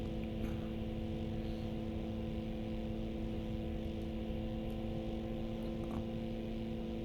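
Shrike 530F helicopter turbine engine in MSFS 2024 runs as a steady, loud droning hum with a constant whine, holding one unbroken tone for the whole stretch.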